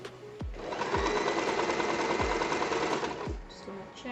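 Sewing machine running a straight seam across a blanket made from used linen, a steady fast mechanical whirring with soft thumps as the fabric is guided, close and loud.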